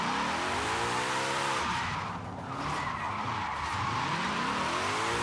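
A car drifting in Forza Horizon 5, its tires skidding and squealing in long sweeping waves over a revving engine, loud and continuous with a brief easing midway.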